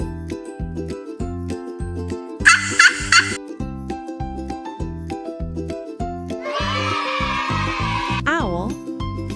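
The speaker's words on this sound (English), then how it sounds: "turkey, turkey," A turkey's gobble bursts out twice, a short rattling call and then a longer warbling one, over a steady, loud rhythmic music beat.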